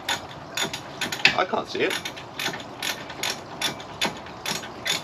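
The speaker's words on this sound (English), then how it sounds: "Tightening up a bolt that you can't see." Wrench ratcheting while tightening a bolt on a Mazda track car, giving close, crisp repeated clicks in short irregular bursts, with a brief spoken remark partway through.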